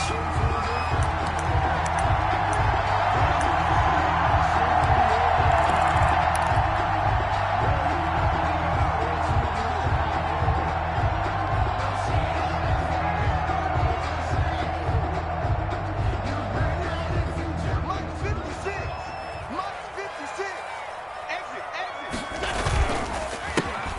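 Stadium crowd noise fills the air before a Chicago Bears versus New York Giants football game, a steady loud roar with scattered cheers and whoops and a regular thumping beat underneath, easing off near the end.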